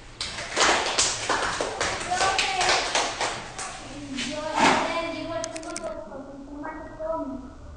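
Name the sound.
classroom applause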